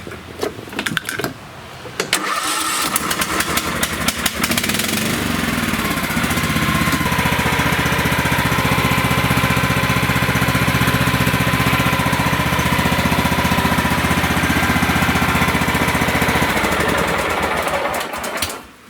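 A lawn tractor engine, freshly refueled with a new fuel filter, spark plug and reassembled carburetor, cranks briefly, catches and then runs at a loud steady idle for about fifteen seconds before cutting off.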